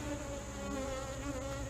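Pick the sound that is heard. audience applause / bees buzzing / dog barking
bees buzzing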